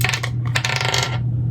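Dice clatter briefly and sharply, close up and loud, in a rapid rattling burst over a steady low hum.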